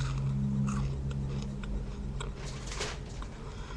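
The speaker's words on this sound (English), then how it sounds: "Don't you wish you could eat a cookie like me?" Close-up chewing and biting of a chocolate chunk cookie, with soft crunchy clicks and moist mouth sounds over a low steady hum, continuous for a few seconds with no talk.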